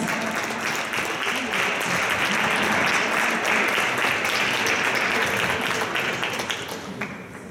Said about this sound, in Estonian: Teeme veel ühe suure aplausi